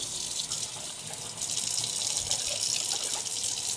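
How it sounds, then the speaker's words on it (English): Tap water runs steadily into a kitchen sink while a container that held cocoa powder is rinsed, a continuous hiss close by with no talking. "All right, just gonna rinse this."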